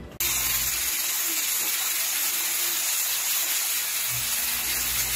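A pressure cooker cooking mocotó lets out steam in a loud, continuous broadband hiss that starts abruptly and holds steady for several seconds over a low rumble, close by and with no talking.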